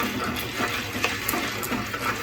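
Dry popcorn kernels stirred in an open pan with no oil, giving a steady scraping, rattling texture close by with a few sharper clicks, no voices.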